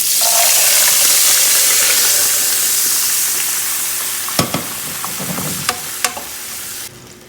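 Tuvar dal goes into a hot pan of tempering with green chilies and asafoetida, setting off a loud sizzle that slowly fades. A few sharp clicks of a spoon stirring follow near the end.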